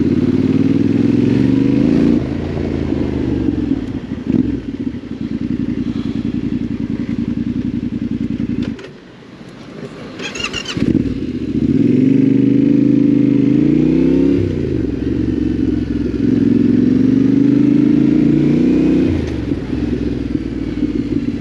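Yamaha Tenere 700 Rally motorcycle, a 700 cc twin heard while riding: loud, close engine drone rising through repeated accelerations and gear changes, with a brief dip and a burst of wind or clatter midway.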